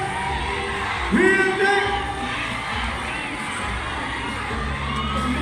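Crowd at a Moto Ronda motorcycle gathering at a Wheeltek dealership in Cabanatuan City shouts and cheers loudly, with a surge of whooping voices and a raised call rising above steady crowd noise throughout.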